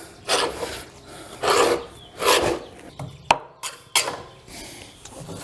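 A putty knife scrapes caked grass buildup off the underside of a mower deck in repeated harsh rasping strokes, about four long scrapes with a few sharp knocks between, close and loud with no talking.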